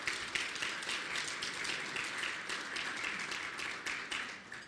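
An audience claps in a dense, steady round of applause for the Marriott hotel staff at a city legislative event in a hotel ballroom, sustained and even throughout with no talking.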